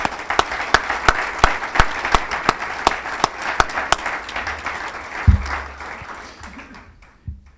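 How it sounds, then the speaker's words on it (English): Applause from the audience at a college athletics Hall of Fame ceremony for the inductees, a lively wash of hand claps with distinct sharp slaps, tapering off near the end with a brief low thump. "Let's give one more round of applause for all of our inductees."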